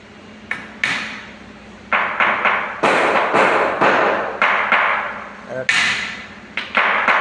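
Hammer blows driving a nail into wood, a series of sharp close knocks in uneven bursts, some quick pairs and some single strikes, with voices talking in the background.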